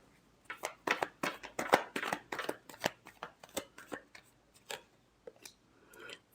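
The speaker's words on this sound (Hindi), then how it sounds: "Last shuffle." Tarot cards are shuffled by hand in a quick, crisp flurry of riffling slaps and flicks, close and moderately quiet, tapering into scattered taps with no talking.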